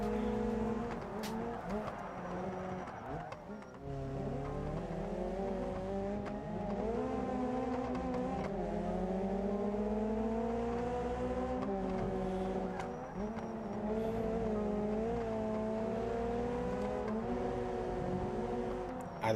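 Game cars race in a derby arena in BeamNG with nitrous boost, steady loud engine drone with shifting pitch and occasional tire squeal, continuous throughout.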